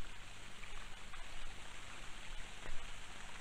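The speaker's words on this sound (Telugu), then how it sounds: "అబ్బా షవర్ సౌండ్ వస్తుంది" A shower runs steadily, a faint continuous hiss of falling water with no voices over it.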